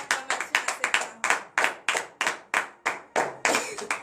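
Clapping from a congregation at a morning prayer service in Benin, a steady rhythmic run of about a dozen sharp claps, fairly close and without talk.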